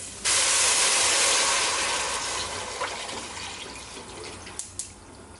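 Water pours from a tap in a loud, steady gush into a pot of curry vegetable noodle soup with turmeric and curry powder, starting suddenly and tapering slightly, with a few small clinks near the end.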